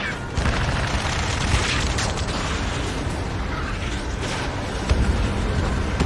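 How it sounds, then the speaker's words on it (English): Explosions and gunfire in the jet combat game Ace Combat 7, flying a Gripen E: a dense, continuous roar of blasts and booms with sharper bursts near the start and end, loud throughout, with no talk. "Strider 1, AA gun destroyed. The enemy's begun its counterattack"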